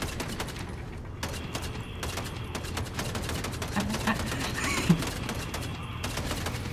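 Steady, dense gunfire from Fortnite, with rapid shots and bursts crackling continuously under a busy game mix, with one sharper thump near the end.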